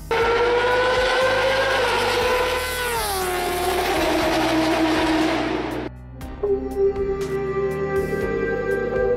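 A Kawasaki H2 motorcycle engine revs hard and climbs in pitch, loud and close, drops off briefly, then roars up again.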